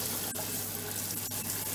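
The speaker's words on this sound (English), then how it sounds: "And water's coming out everywhere." Water gushes steadily from a kitchen tap, a constant hissing splash with a couple of brief clicks, close and fairly quiet.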